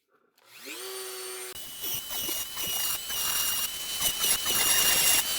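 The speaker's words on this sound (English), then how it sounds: "I adjust the Dremel as I'm grinding" Dremel rotary tool spins up with a rising whine, then grinds against a Buck 110 folding knife, producing a loud, shrill, fluctuating squeal with intermittent scraping surges at close range.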